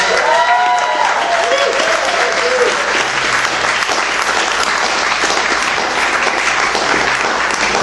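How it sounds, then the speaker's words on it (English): Sustained, loud crowd applause with cheering for a performer at a joyful memorial event, steady and dense throughout. "Let's make some noise for Jackson one more time, please."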